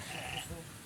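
Goat bleating at a goat-selling farm, a short, faint, wavering bleat of under a second, with a voice talking nearby.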